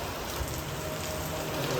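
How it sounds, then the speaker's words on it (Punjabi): Dense, steady rain pours down hard, a continuous hiss with no voices or pauses. "ਇੱਥੋਂ ਮੀਂਹ ਕਿੰਨਾ ਤੇਜ਼ ਲਗਾਇਆ"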